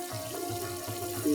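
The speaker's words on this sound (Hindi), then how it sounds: "इसमें थोड़ा हम पानी ऐड करेंगे जी" Water being poured into a cooking pot for a Sindhi curry, a soft trickling splash with a faint steady tone, gently rising near the end, with no speech.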